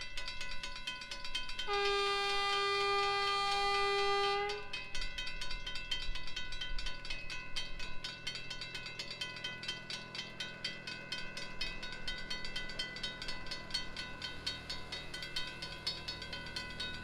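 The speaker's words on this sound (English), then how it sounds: "that was a local tram that runs twice a day" A local tram in Pemberton, Western Australia, passes by with a sustained horn-like tone lasting a few seconds, followed by steady rumbling mechanical clatter that continues throughout, with no voices.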